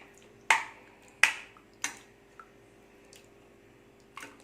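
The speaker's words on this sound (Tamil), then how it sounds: "இந்த கரண்டியால் லைட்டாக மசிச்சு விடுங்க." Boiled potatoes in a Kerala-style potato stew with coconut milk are lightly mashed with a ladle, making a few soft, wet squishes and taps spaced apart, quiet and close, with no voices.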